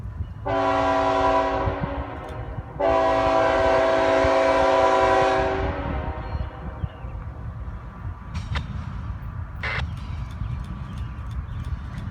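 Two long, loud blasts of a train horn, followed by rumbling rail noise and a few sharp clicks as the train rolls past.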